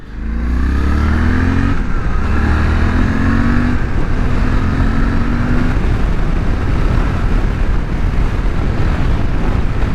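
A Suzuki V-Strom 800DE motorcycle on a test ride revs up through several gear shifts, its engine note climbing and dropping, then settling into a steady roar buried in heavy wind rush.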